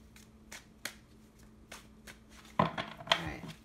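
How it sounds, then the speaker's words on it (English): Tarot cards shuffled by hand in a quiet room: soft riffles and taps early on, then a louder flurry of crisp riffling near the end, heard up close with no talking. "shuffle for a long time before I start filming"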